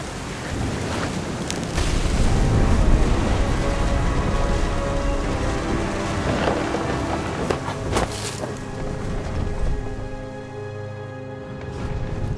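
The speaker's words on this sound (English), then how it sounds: "The thunder sounded much too close and full of angry power." A stormy scene from the video game What Remains of Edith Finch, with steady heavy rain hissing throughout and occasional low thunder rumbles and cracks, loud and close, no talking.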